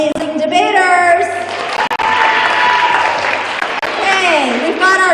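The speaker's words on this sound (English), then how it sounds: "one more round of applause for our amazing debaters" Audience applause at a middle school district debate tournament, sustained clapping across the room with voices and cheers mixed in and talk overlapping.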